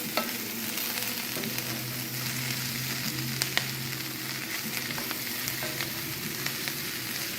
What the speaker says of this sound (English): I'm just going to keep sauteing it until that's all nice and yummy